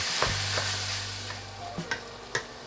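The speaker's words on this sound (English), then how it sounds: "So the ground beef and the ground lamb cook all the way through" Ground beef and ground lamb, some still partly frozen, fry in a pan with a constant close sizzle, broken by a few short scraping stirs of a utensil.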